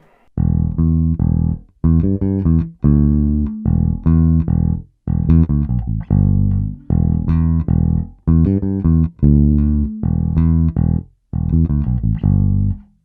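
A bass guitar riff played at a slow, steady pace, phrases of plucked notes separated by short pauses, solo and up close.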